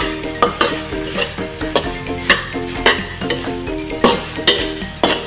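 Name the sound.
stirring amplaya with corned beef and egg in a pan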